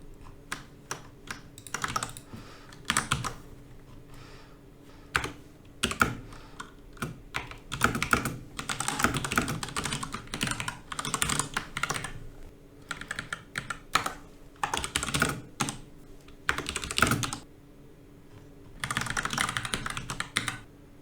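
Code is typed on a computer keyboard, with rapid clusters of close key clicks broken by short pauses and occasional heavier keystrokes, steady for about twenty seconds with no talking.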